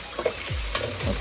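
Onion and tomato sizzle and fry in a hot pan, with a few scraping stirs and soft clatters over a steady, quiet crackle.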